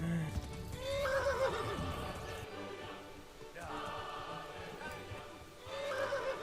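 A horse whinnies loudly several times in the video game Kingdom Come: Deliverance, with hoof clip-clops and game ambience underneath.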